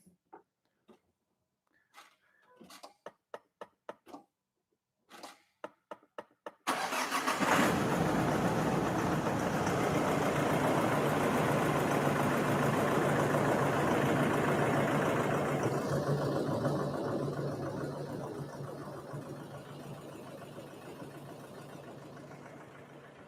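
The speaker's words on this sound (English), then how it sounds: "I'm gonna start the car, and then we'll see what happens here." A Nissan D40 Navara with an EGR fault cranks and fires after a few short clicks and taps, then settles into a loud, steady idle that holds to the end.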